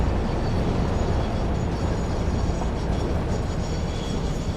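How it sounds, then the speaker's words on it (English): A train in the Satisfactory video game rumbles past as a steady, loud, dense roar with faint clatter, continuous and unbroken throughout, with no talking. "This platform is simply for my construction train"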